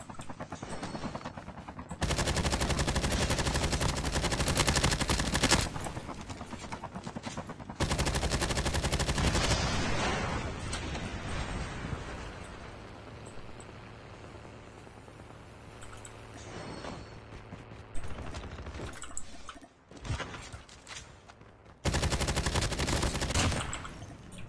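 Bursts of automatic weapon fire from a battle royale video game, loud sustained volleys broken by short pauses, with a helicopter-like drone and scattered single shots in between.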